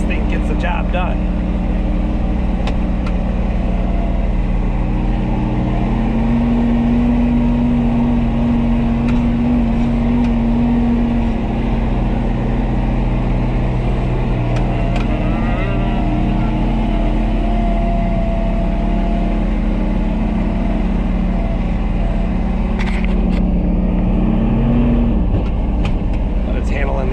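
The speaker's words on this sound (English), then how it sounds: "The diesel engine's really nice." A 2021 Kubota RTV X1100C diesel utility vehicle drives over snowy hills at low speed, its engine a steady close drone with rattles and a rising whine near the end, while someone talks over it.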